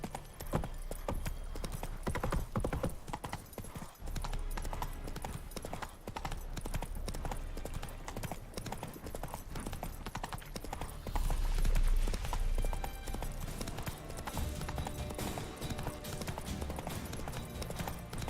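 Roach the horse clip-clops along in a Witcher video game, steady rhythmic hoofbeats close up and continuous throughout, with a few louder thumps and no spoken voice.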